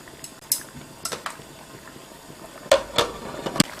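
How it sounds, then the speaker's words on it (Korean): Soaked glass noodles boil in a pot of water while yangjangpi is made at home. Soft bubbling is heard along with a few sharp clinks and splashes, and no one speaks. "불린 당면을 삶아줄게요."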